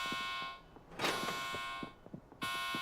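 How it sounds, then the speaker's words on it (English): Electronic alarm tones during a safe crack in the video game Delta Force, a steady sustained buzzing alarm with harmonic layers that cuts out briefly twice, with faint thuds and game sounds underneath. "Don't know if anyone is really paying attention to these alarms"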